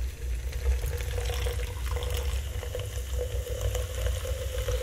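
Liquid pours steadily into a cocktail of Crown Royal Apple, Kool-Aid Apple and Smirnoff Apple, giving a continuous close splashing, trickling wash that runs for the whole stretch with no talking.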